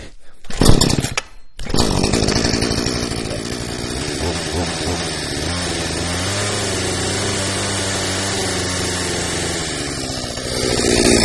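A Parkside 53cc petrol chainsaw starts after a couple of rough pulls, then runs unloaded near at hand with a steady buzzing drone while its chain turns, the engine pitch wavering slightly and swelling toward the end.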